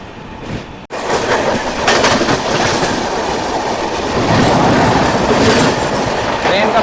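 Two Indian Railways express trains, the Garib Rath and the Sampark Kranti, race side by side at full speed, a loud sustained rumble of wheels and carriages with rhythmic clickety-clack and rushing wind throughout.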